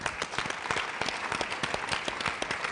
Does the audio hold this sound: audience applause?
yes